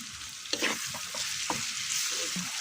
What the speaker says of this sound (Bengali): পেঁয়াজ ভাজা হয়ে গেছে, এখন আদা বাটা রসুন বাটা দিয়ে দিলাম